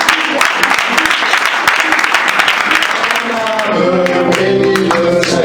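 A church congregation at a gospel service applauds and cheers loudly throughout, with dense clapping and raised voices, and the sound shifts toward singing and music in the last couple of seconds.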